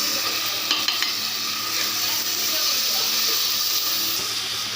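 Ginger garlic paste frying with golden-browned onions in a pan for a chicken gravy, giving a steady, close sizzle with soft stirring scrapes and a faint hiss of steam throughout.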